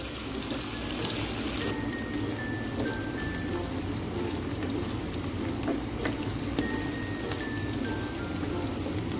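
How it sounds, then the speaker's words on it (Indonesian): Tempeh and jengkol fry together in a pan with steady, close sizzling and crackling, broken by occasional scrapes and stirs of a utensil, with no voices. "Kita aduk terus"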